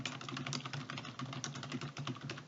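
Quick, steady keystrokes on a computer keyboard while entering data into an Excel spreadsheet, close and fairly quiet, with a continuous patter of clicks and no voices.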